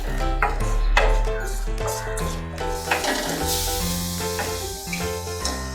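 Manathakkali berries sauté in a hot pan with salt for a kuzhambu, sizzling steadily throughout, with clinks and scrapes of a utensil against the pan and a low hum underneath.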